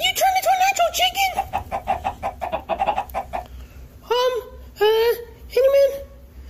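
A person imitates a clucking chicken with a fast run of short cluck-like squawks, followed by a few longer drawn-out cackling calls, close and loud indoors.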